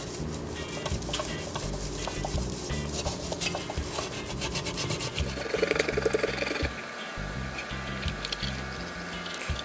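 A polishing cloth rubs tarnished silver in steady, close back-and-forth strokes. The soft rasping continues throughout the clip with no talk over it.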